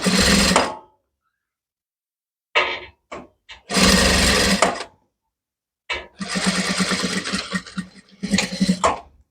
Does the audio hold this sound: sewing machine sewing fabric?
yes